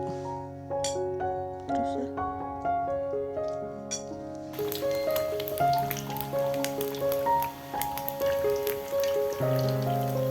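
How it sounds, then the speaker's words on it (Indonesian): Flip-flop-shaped snacks deep-frying in a full pan of oil, a steady crackling sizzle that grows denser midway and runs continuously under loud background music. "Goreng sendal jepit sampai berubah warna."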